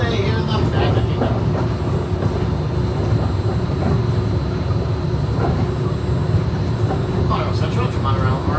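Disneyland monorail ride aboard the Orange train at Disneyland Park, California: a loud, continuous rolling rumble and whine of the moving train fills the cabin, with faint voices blending into the steady noise.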